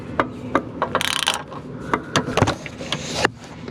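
A hand ratchet clicks in quick, close bursts while loosening a fitting during a speedometer cable repair, with a fast rattling run near the start and scattered single clicks after it.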